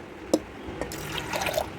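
Water is poured from a glass into a pressure cooker holding lentils, a few short splashes and drips, close and fairly quiet.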